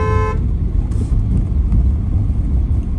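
An original Hyundai Creta horn fitted to a Maruti Baleno gives one short, bright honk at the very start, then only a low engine and road rumble continues.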